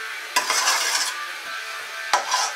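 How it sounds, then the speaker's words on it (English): Onions and garlic sizzling in a frying pan while a utensil stirs and scrapes, two sharp clanks against the pan framing a steady close hiss. "give this a good stir and fry for another 2 minutes"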